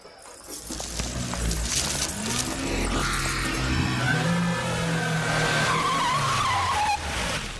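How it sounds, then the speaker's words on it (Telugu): A car racing in at high speed, engine roaring and revving as tires skid and squeal loudly, close and sustained, ending in a sharp stop, with no one talking. "మెరుపు వేగంతో కారు వచ్చాగింది."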